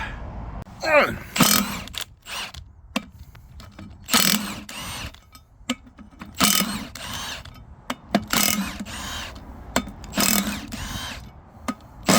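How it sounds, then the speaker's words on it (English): Impact gun undoing wheel bolts on the front brake disc hub of a MAN 7.5 ton horsebox, loud bursts of rattling hammering repeated about five times with quiet gaps between, close by. "we'll get the gun on, undo the bolts, and that will separate the disc from the hub"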